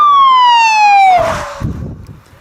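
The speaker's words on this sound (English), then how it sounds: "Fast driving, lights flashing, and sirens blaring." A loud police siren wails close by, its tone sliding downward in one long sweep before cutting off, followed by a brief rumble.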